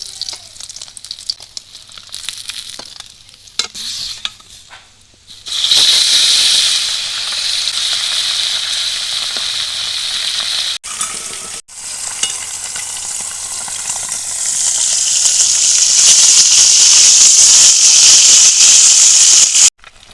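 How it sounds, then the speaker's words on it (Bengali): Pata fish fries in hot oil in a pan: a few seconds of quiet clinks and shuffling, then a loud, hissing sizzle that surges, briefly drops out twice and swells again toward the end. "মাছ ভাজা হয়েছে, এই মাছগুলো আমি তুলে দিচ্ছি"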